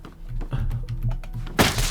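A player breaks into an old building in the physics game Teardown: a string of dull thunks and knocks ends in a sharp crashing break, with no talk.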